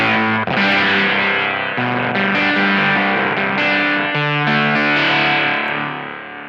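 Gibson NG-355 electric guitar played through an Octavia fuzz pedal, loud saturated chords ringing and changing every second or so, with a thick distorted tone that fades at the end.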